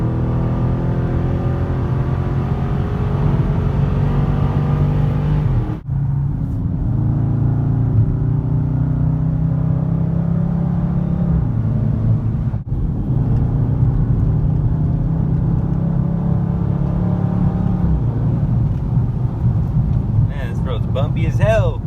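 A 2020 Dodge Charger 392 Scat Pack Widebody drives on a bumpy road in Mexico, its engine a steady loud low rumble throughout, with two brief drops in level, talk heard over it.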